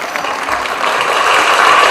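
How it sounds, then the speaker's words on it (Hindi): Steady applause from an audience at a one-act drama competition prize distribution, a dense patter of many hands clapping that stays loud and even throughout. "जोरदार तालियां बजाते रहिए, बजाते रहिए,"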